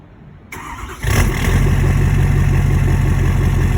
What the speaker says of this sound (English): So we'll cold start it, let you listen to it